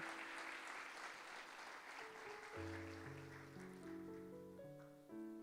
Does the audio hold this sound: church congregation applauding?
yes